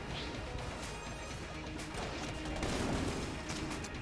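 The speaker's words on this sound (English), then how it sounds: "They're cat claw style explosions." Cat claw style explosions going off in Enter the Gungeon, a rapid cluster of crunchy, smashing blasts layered with game gunfire, loud and busy throughout with a heavier burst near the end.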